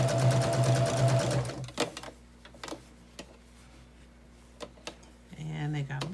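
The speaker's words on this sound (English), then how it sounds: "these half square triangles will go very quickly because we're chain piecing them" A sewing machine runs in a steady fast burst while half square triangle quilt pieces are chain pieced one after another. A pause with scattered clicks and handling follows, then stitching resumes briefly near the end.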